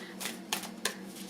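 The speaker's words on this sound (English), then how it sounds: "I'm just gonna shuffle until I feel the urge to stop." Tarot cards being shuffled by hand, a few soft riffling bursts close up with brief gaps between them, over a faint steady hum.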